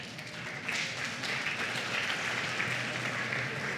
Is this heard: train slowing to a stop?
no